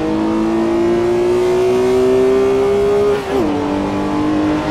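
A Porsche 911R's air-cooled flat-six engine with a five-speed close-ratio gearbox pulls hard, its note climbing steadily before a quick gear change and renewed acceleration, loud and close.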